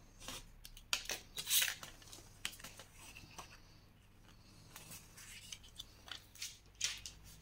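Scissors snip through decorative scrapbooking paper for a gift box made to hold a large bottle, giving several quick, close crisp cuts in short bursts with small gaps between them.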